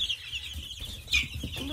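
Twenty-day-old chicks and ducklings on an off-grid Missouri homestead chirp and peep in a steady overlapping chorus, close and moderately loud.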